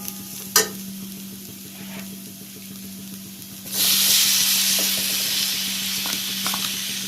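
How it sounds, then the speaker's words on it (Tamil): Tomatoes cooking in a pan with turmeric and chili powder for a black-eyed pea curry give a steady close sizzle, with a sharp clink near the start and a louder burst of frying as stirring picks up partway through, over a constant low hum. "தக்காளியும் நல்லா வதங்கட்டும்."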